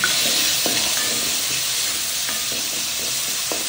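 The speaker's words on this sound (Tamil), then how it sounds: "இப்போ வந்து 2 வெங்காய பொடி பொடியாக அறுத்துருக்கு, அதையும் போட்டுக்கலாம். போட்டு இதையும் நல்லா வதங்கிக்கணும்." Finely chopped onions sauté with ginger and garlic in a hot pan for butter beans gravy, a steady close sizzle and hiss broken by occasional light scrapes of a stirring spoon.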